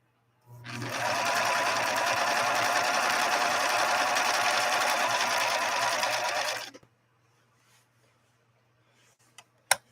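A Viking Husqvarna 3230 sewing machine stitching a 3-point zigzag runs steadily for about six seconds in a fast, even whir, close and loud, then stops, leaving near silence with a couple of faint clicks.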